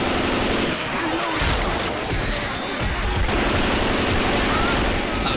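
Heavy gunfire in Left 4 Dead 2 realism versus on Swamp Fever, sustained rapid rattling bursts of shots, loud and close, with a short lull then continuous automatic fire and faint voices underneath.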